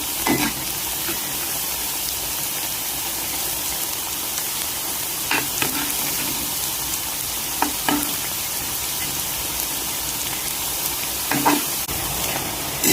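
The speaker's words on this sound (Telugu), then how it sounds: "ఇవి ఇంకో పక్కకి తిప్పుకుంటూ వేయించుకుందాం." Suji rings deep frying in hot oil produce a continuous loud sizzle while they are turned over, with occasional sharp utensil taps against the pan.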